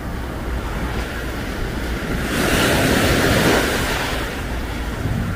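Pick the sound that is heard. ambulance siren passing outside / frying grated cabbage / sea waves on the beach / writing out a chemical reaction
sea waves on the beach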